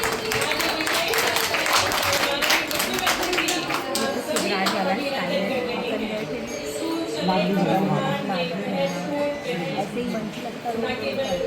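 Applause welcoming students at a school admission festival at PM SHRI School Maneri, with the Chief Minister present: a crowd of clapping hands, heaviest in the first few seconds, mixed with an amplified voice speaking over a public address.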